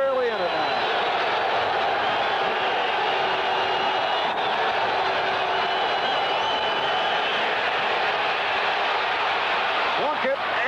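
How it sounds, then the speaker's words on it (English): Loud, sustained roar of a football stadium crowd during a 3rd down and 15 play in a 1983 NFL game between the Raiders and Bengals, a continuous dense wash of noise heard throughout. "this crowd is really in it now"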